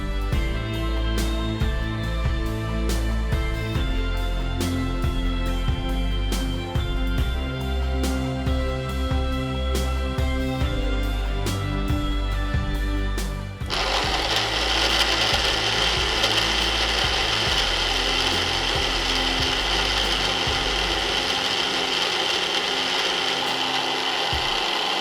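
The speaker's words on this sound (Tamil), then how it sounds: "அதையும் போட்டு எல்லாத்தையும் மிக்சியில் போட்டு நல்லா ஜூஸ் எடுத்துக்கணும்." Mixer grinder blending papaya and other fruit into juice, a steady close motor whine with a ratcheting hum that shifts about halfway through to a rougher, louder roar as the contents churn.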